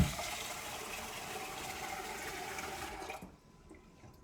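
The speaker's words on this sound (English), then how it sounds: "I'm just gonna rinse out that rice." A steady stream of water rushes over rice being rinsed in a sink, loud and close, then cuts off abruptly near the end, leaving quiet.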